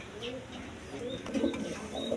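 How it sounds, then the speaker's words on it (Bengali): A pair of beauty pigeons coo softly in low, rounded pulses, a few calls rising near the end over a steady background hum. "এখানে এক পেয়ার বিউটি কবুতর আছে"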